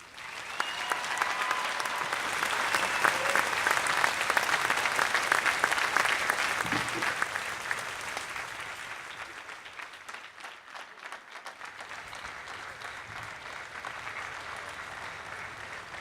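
A commencement crowd claps for university president Robert V. Antonucci at a May 2015 undergraduate ceremony: sustained, dense applause from a large indoor audience that stays loud for most of the stretch, then eases slightly toward the end.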